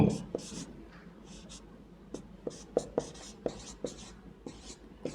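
Marker or chalk strokes on a board during a classroom maths lesson, a series of short sharp taps and scratches spaced irregularly, close and moderately loud beneath a quiet room.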